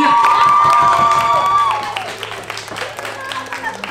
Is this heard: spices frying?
no